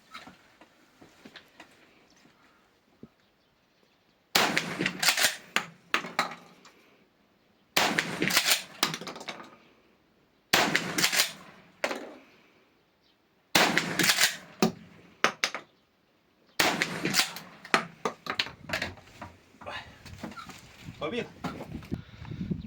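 Sharp 12-gauge shotgun shots firing Lee slugs at a shooting range crack out in quick spaced volleys, loud and close, with pauses and faint handling noise between groups of shots.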